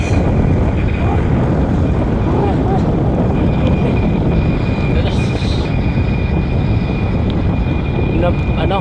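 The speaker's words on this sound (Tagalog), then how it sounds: "Sa lungat talaga yung hangin." Strong headwind buffets the microphone while cycling on a road ride from Inopacan to Bato, a loud steady roar with brief gusts and voices heard faintly under it.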